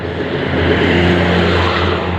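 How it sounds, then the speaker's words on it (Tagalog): A car speeds past on a road at close range. The engine roar swells and fades over about two seconds. "Guys, oh, mabilis yung mga sasakyan dito mga guys."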